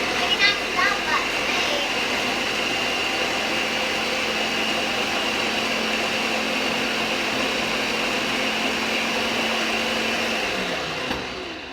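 A blender grinding tahini runs loud and steady for several seconds, a constant grinding whir that winds down at the very end.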